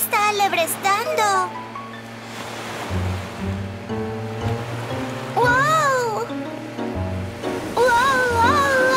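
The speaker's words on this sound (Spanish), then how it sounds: "¡El mar se está alebrestando!" Rough sea waves churn and surge in the Spanish-language Morphle children's cartoon, mixed with bright cartoon voices and tonal sound effects.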